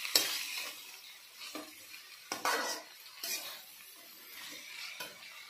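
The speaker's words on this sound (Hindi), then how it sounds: "वर्तमान में आलू और बंधाकोबी को पकईदबा।" Potatoes and cabbage cooking in a pan with chana dal and capsicum, a spoon stirring and scraping against the metal in irregular strokes over a soft sizzle, close and quiet.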